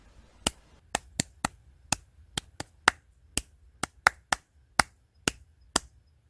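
Crisp hand claps in a simple rhythm exercise for a beginners' sight-reading course, about fifteen sharp, close claps spaced irregularly in a counted pattern, with no talking.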